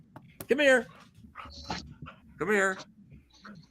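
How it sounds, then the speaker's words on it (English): A dog whimpers and pants close by, giving two distinct whiny yelps separated by softer breathy panting. "I'm gonna take care of this dog."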